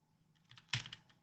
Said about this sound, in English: That's just me typing normally.